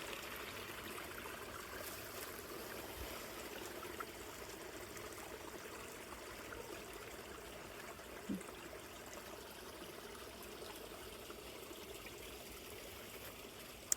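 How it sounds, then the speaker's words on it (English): Water rushes steadily in a continuous broadband wash from a creek swollen after heavy rain, flowing close by, with no voices. "So the creek is growing strong."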